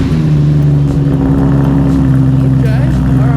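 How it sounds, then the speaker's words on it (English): A Chevrolet Corvette C8 Z06 with its loudest exhaust option roars close and loud as a steady engine drone with rising revs, while voices talk over it. "It's the loudest exhaust we make."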